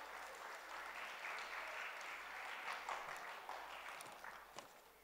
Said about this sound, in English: Can we please give them a very big round of applause?